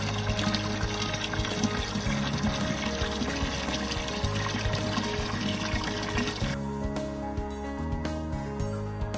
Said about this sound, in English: Now filling the water to calibrate the tank capacity and maximum percentage